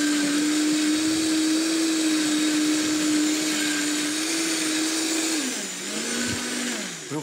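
A blender mixes a green smoothie with a loud, steady motor whine and a harsh, grinding rush. Its pitch dips and wavers near the end as the load shifts, and no one talks over it.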